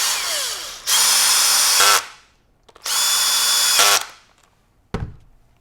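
Two loud, close bursts of a power drill driving screws into a bolt-action rifle during assembly, each running about a second and winding down, followed by a sharp clack.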